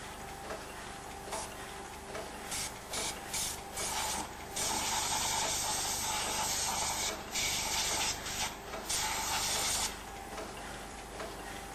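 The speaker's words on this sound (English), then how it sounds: "Compressed air is then used to remove any residue." Compressed air hisses steadily, blowing residue out of a Heidelberg GTO printing press, swelling louder in bursts over a faint ticking and rubbing background.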